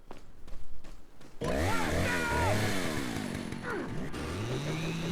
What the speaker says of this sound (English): you can just run past him as he's revving that chainsaw